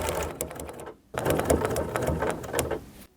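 A sewing machine stitches straight-line quilting, its motor buzz running steady and close with a short pause near one second before resuming and stopping again at the end.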